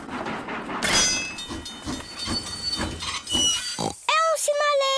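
Animated children's cartoon train rolling along its rails, heard as a steady hissing, chugging rhythm with voices over it, ending in a couple of high, wavering whistle-like tones.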